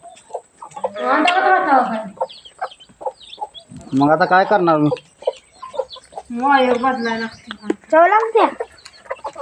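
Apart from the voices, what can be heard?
chickens clucking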